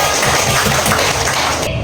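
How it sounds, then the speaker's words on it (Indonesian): A classroom of schoolchildren applauds together, a dense, steady wash of many hands clapping at once that holds at an even level throughout. "Oke, tepuk tangan semua."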